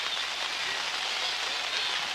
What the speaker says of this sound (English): I wonder how much more we can pitch in this rain.